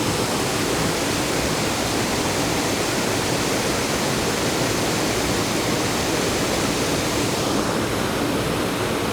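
The top cascade of Sabbaday Falls in New Hampshire roars as a steady, dense wash of falling water, loud and close with no pauses or voices.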